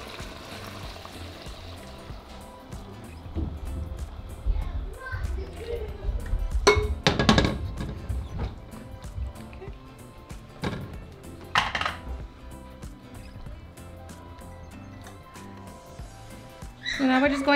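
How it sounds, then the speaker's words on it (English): Tomato broth strained into a pot for Mexican chicken and rice soup, with a liquid pour, clinks of kitchenware and brief metallic knocks over a steady low room hum. "now I'm just going to strain my broth"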